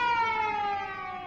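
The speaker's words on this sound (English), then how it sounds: "I was just curious about that siren." An ambulance siren sounds in a city street near a bank, a loud steady wail that dips slightly in pitch as it passes, heard alone without talk.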